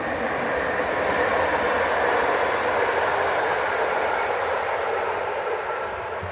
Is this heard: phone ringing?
no